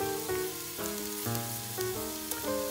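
Shallots and asparagus peelings sizzle in olive oil in a pan, a steady moderate frying hiss with light stirring movements over a faint background hum.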